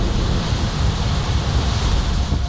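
Sea waves crashing and strong wind roaring on the Chennai coast during Cyclone Vardah, a continuous loud, rumbling surf with gusty wind buffeting the microphone throughout.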